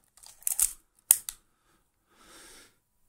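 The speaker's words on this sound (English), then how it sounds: "So normally when I cock the shutter, this one turns around." The shutter of a film camera is cocked with a few sharp, close mechanical clicks and ratchets, followed after a pause by a brief soft whirring scrape, otherwise quiet.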